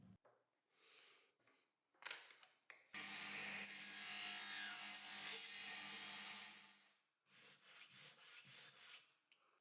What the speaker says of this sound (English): I made them a little bit bigger so that I can adjust them with a file.